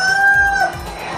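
Hens cluck in a layer coop kept for end-of-lay culling, several birds close by with one drawn-out tonal call over a steady low barn rumble.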